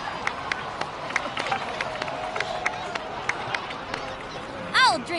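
A crowd in the game Genshin Impact applauds its heroes, steady scattered clapping with faint cheers over soft music, building to a brief swell near the end.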